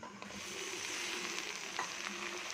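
Curry leaves sauté in hot oil in a pan for a tamarind kuzhambu with green sundakkai, giving a steady, soft sizzle and light frying crackle throughout.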